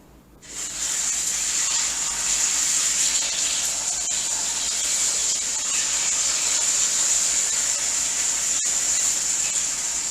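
Spring rolls fry in hot oil with a loud, continuous close sizzle and hiss. Two sharp pops break through the steady frying.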